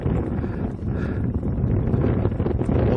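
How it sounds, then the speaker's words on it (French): Cool wind blows across the open desert at Uweinat, a steady, loud rush and buffeting roar against the microphone that keeps on without a break. "Il y a un vent frais"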